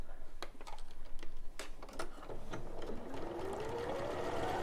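A sewing machine stitches a half square triangle for a quilt, a close steady mechanical whir with clicking bursts early on and a faint rising motor whine toward the end.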